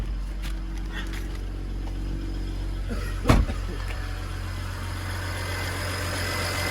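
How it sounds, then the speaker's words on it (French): A BMW engine idles at a steady low hum with a faint whirring belt noise, interrupted once by a brief sharp knock. "Il y a un petit cliquetis et puis on entend les courroies un tout petit peu"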